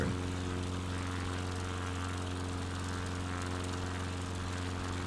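A propeller plane's engine drones in Microsoft Flight Simulator on an Alaska bush flight, a steady, even hum with a strong buzzing tone that holds constant throughout without talk.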